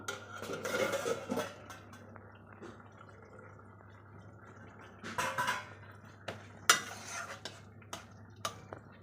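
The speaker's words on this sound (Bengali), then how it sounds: "লাউয়ের ঢাকাটা একটু খুলে দেখি" A lid comes off a pot of bottle gourd and potato simmering in water for lauki chorchori. Quiet kitchen clatter gives way to a few sharp metallic clanks and scrapes, with soft bubbling underneath and no voices.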